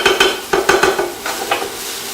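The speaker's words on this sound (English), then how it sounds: "So I'll let this saute down for about another 30 seconds." Food sautes in a pan for a holiday brunch, with repeated stirring scrapes and soft sizzling in short bursts, close and fairly loud.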